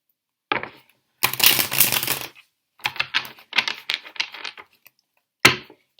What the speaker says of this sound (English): And I'm just going to do one more shuffle.